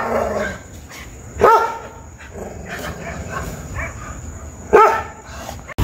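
A dog barks outdoors in Arima, Trinidad, with two sharp bark bursts standing out over a steady background of ambient outdoor noise.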